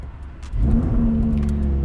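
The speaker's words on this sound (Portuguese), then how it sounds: "vou ligar o carro, ó, dá uma olhada." A Lamborghini engine starts after a moment of quiet, cranking into a low, steady rumbling idle that stays close and loud to the end.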